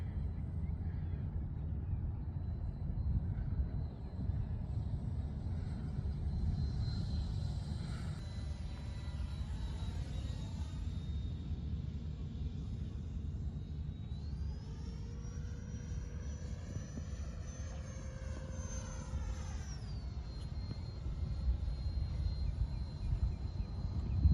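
A Freewing 64mm F-16 electric ducted fan model jet flies at about half throttle, a steady airy whine with the pitch rising and falling as it passes, heard alone over constant outdoor noise.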